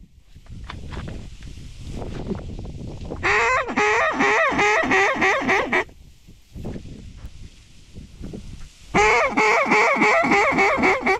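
Wild ducks and geese call across a public-land marsh in two loud bursts of dense, overlapping quacking and honking from a flock, with quieter scattered calls between them and no talk.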